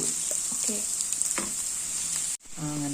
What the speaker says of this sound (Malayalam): അതിന് ജസ്റ്റ് ഇങ്ങനെ ഇടയ്ക്കിടയ്ക്ക് ഇളക്കി കൊണ്ടിരിക്കും